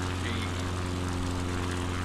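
A propeller airplane engine in a video game drones steadily and loudly throughout, a dense buzzing hum with a strong low tone and no letup.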